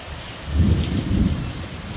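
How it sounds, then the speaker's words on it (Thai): Steady rain hisses over a low, rolling rumble, with no voices. "ฝนตก"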